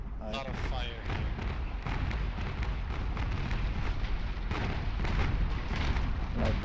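Naval cannon fire in the Naval Action game during a PvP tournament battle: a continuous dense rumble of broadside booms and impacts, with a voice talking over it.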